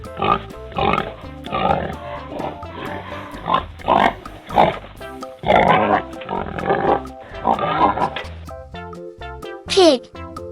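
Pig oinking and grunting in a series of close, loud snorts with irregular rhythm, followed by a brief high squeal near the end.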